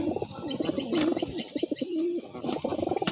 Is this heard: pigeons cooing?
yes